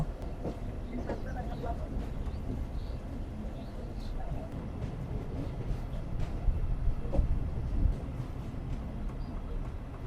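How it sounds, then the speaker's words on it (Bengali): A Punorvoba local commuter train on the Rajshahi–Rahanpur line pulls into Sitlai railway station in the early morning, with a steady low rumble and faint wheel clatter heard from inside the carriage. "সকাল ছয়টা ছাব্বিশ মিনিটে আমাদের ট্রেন প্রবেশ করলো সিতলাই রেলওয়ে স্টেশনে"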